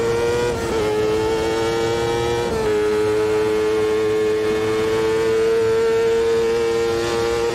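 Single-seater race car engine in Automobilista 2 at Watkins Glen, a loud steady high-pitched whine that dips briefly around a gear change, then holds a sustained drone close by with no talk.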